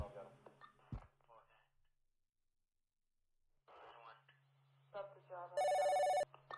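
A telephone rings once near the end, a loud electronic trill lasting under a second, after stretches of quiet room tone and someone talking anxiously beforehand.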